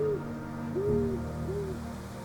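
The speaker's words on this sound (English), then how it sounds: "and occasionally letting out a hoot" An owl hoots three times at sunset, with soft, evenly spaced calls at moderate distance over a low outdoor hum.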